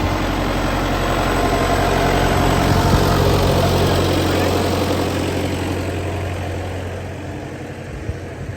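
A big farm tractor's engine running at idle, a heavy continuous low chugging rumble close by that eases slightly toward the end.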